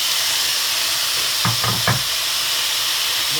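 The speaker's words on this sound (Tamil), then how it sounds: "இப்போ நாங்கள் இந்த வாழைப்பூவை போடுவோம்" Chopped banana blossom goes into a pan of softened ingredients for a stir-fried vara, with a continuous hiss of frying under a few quick scraping stirs of a spoon in the middle.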